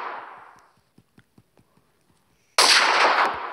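An M4 rifle from a Minecraft PE guns mod fires in a game: a faint burst fading out, a run of soft evenly spaced clicks, then a sudden loud, dense blast of gunfire holding to the end.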